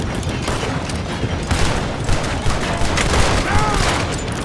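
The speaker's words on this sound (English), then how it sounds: "How many shots does it take?" Rapid gunfire in Red Dead Redemption 2 crackles in a loud, overlapping volley, with sharp repeated shots and booms packed close together and players talking over the shooting.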